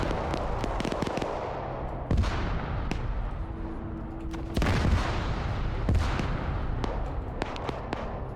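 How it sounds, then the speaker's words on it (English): Video game battle with repeated explosions and gunfire-like blasts, a dense crackle of booms and sharp bangs throughout, some louder impacts standing out, with no talking. "Add some extra explosions."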